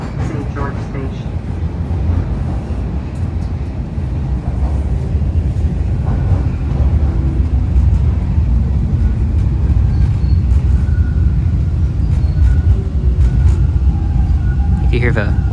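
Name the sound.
subway trains running on the level above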